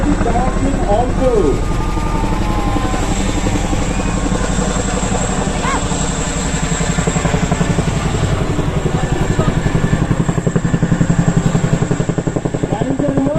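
A Chinook helicopter performs a backward takeoff at an air show, its loud rotor thump beating fast and steady throughout, under a continuous engine roar, with a voice faintly audible over it.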